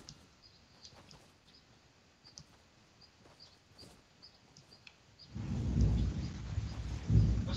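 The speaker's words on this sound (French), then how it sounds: "L'orage il tape fort et pas loin." Thunder from a storm in a battle royale video game: a quiet stretch of faint ambient ticks and chirps gives way to a deep, loud rumble that rolls on for the last couple of seconds.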